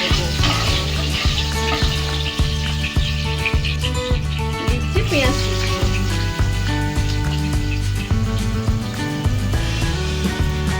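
Black cumin seeds and green chillies sizzle and fry in hot oil while being stirred for a thin fish curry, a steady crackling hiss running beneath prominent rhythmic background music throughout.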